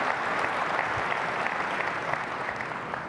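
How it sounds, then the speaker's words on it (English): Keynote audience in a large Las Vegas conference hall applauding, a broad wash of steady clapping from a big crowd, evenly sustained and fairly distant. "Please give a big round of applause to the teams that worked really hard on this amazing feature."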